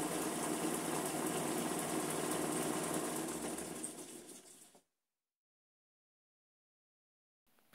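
Homemade lathe's electric motor runs with a steady, loud whirring hum for about four seconds, then winds down and cuts to silence, with a brief sound returning at the very end; no talking.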